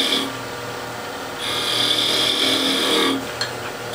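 A wooden chess piece is tapered on a lathe, a steady motor whine under a bright, hissing scrape as the tool cuts in for about two seconds, then eases off, loud and close with no talking.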